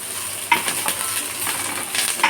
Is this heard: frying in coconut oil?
yes